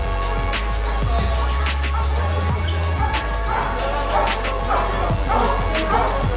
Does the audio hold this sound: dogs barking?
yes